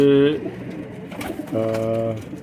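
Pigeons of a patti-marked cross breed give deep, resonant coos close by, one at the start and another longer call later, with soft clatter and faint background noise between.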